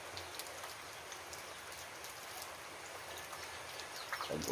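Steady rain hisses down in a dense, even patter, with a few louder drops spattering nearby toward the end.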